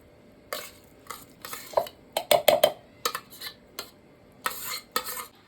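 Scattered clinks and scrapes of a metal spoon scooping milk cream into a mixer jar, in short irregular bursts with quiet gaps between, close by.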